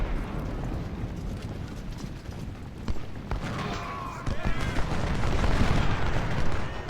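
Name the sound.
gunfire on cavalry in video game Ultimate General: Civil War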